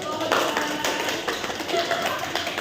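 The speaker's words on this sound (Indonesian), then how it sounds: "Beri tepuk tangan untuk kelompok" A class of vocational school students claps for a group after its presentation, a brisk, fairly close patter of many hands that holds steady throughout with a little voice mixed in.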